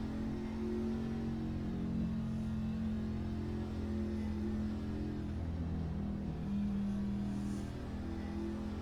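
Race cars at the Talladega Xfinity race roll together behind the pace car, giving a steady, droning engine hum with a low, even pitch and little change in loudness.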